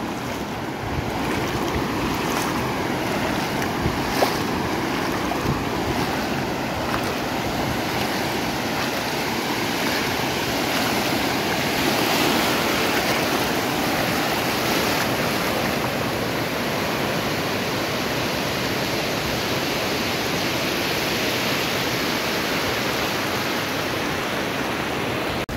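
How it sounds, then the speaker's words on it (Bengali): Sea waves break on Tajpur beach in a steady, loud wash of surf that roars continuously without pause, blended with wind noise and no voices. "আর এদিকে হচ্ছে আমাদের সমুদ্র,"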